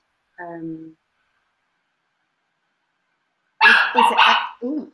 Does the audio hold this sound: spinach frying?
no